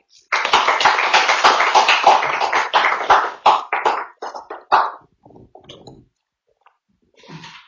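Audience applause at a government ceremony: a loud burst of dense clapping that thins into scattered claps and dies away after a few seconds, followed by a brief murmur.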